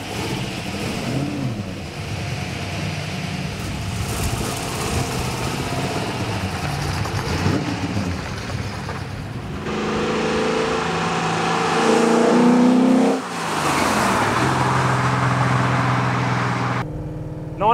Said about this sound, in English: '67 XR GT Falcon